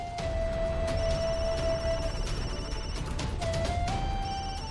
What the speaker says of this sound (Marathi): भावनाचा फोन येतो